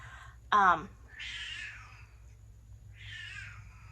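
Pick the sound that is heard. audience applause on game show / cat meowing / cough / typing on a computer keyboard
cat meowing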